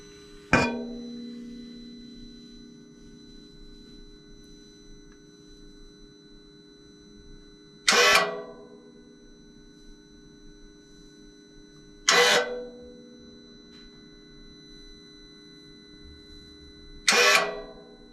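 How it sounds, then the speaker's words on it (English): A BMW i8's exhaust valve flap, opened and closed electronically, gives four sharp mechanical clunks spaced several seconds apart. Each one rings briefly over a quiet, steady background hum. "try to show you this exhaust flap moving"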